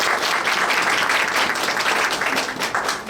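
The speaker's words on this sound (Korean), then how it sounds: "나오실 때 따뜻한 축복의 박수로 맞이하겠습니다" A church audience gives sustained, dense applause to welcome a pastor at a Korean migrant mission forum's opening service, with no talk over the clapping.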